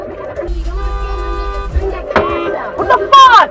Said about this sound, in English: Where the fuck did you honk?